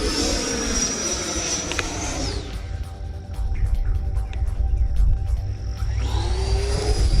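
A Horizon Hobby RC jet roars past in a sharp high-G pull, its turbine whine sweeping steeply down in pitch, then a rumbling mid-section with a steady tone before the whine rises again, loud and close.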